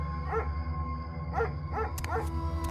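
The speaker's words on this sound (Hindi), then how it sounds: "दूर कहीं से कुछ कुत्तों और भेड़ियों के रोने की आवाजें आ रही थीं" Dogs and wolves at night in a rural village setting, giving several short, faint yelping howls at a distance, spaced irregularly over a steady low hum.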